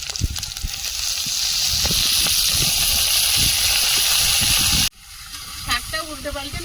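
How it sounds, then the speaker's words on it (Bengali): Pumpkin leaves drop into hot spice mix in a pan, giving a loud, continuous sizzle and hiss that cuts off sharply, followed by quieter crackling and clatter. "মশলাটা ভালোভাবে ভেজে নিয়েছি এবার কুমড়ো পাতাটা দিয়ে দেবো"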